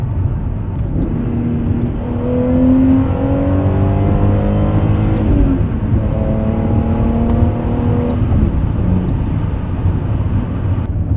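BMW E39 530i with a manual gearbox, its engine revving and pulling through gear changes from fourth to third and back to fourth. The steady, fairly loud engine note climbs in pitch, dips briefly at each shift and then rises again.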